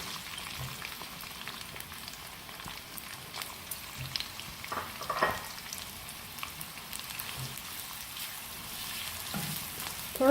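Chopped onions frying in hot oil in a pan for tinda masala, a steady crackling sizzle with a few louder pops and stirring scrapes, close up and without speech.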